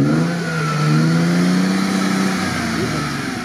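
A GAZ-69 off-road vehicle's engine revs steadily and loudly at mid pitch while it drives through a deep ford, the throttle rising and falling, close by and with no talk over it.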